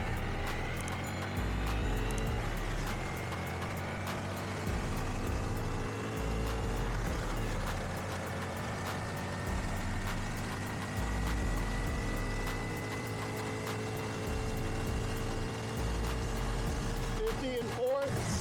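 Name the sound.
2025 Honda Grom SP motorcycle engine while riding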